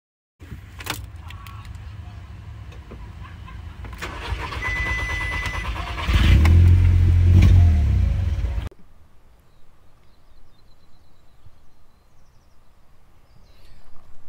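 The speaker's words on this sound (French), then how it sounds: "je démarre ma voiture, logiquement. Je démarre et ça me donne ça" A car engine cranks and catches, revving loudly for a few seconds before dropping to a quieter, rough idle.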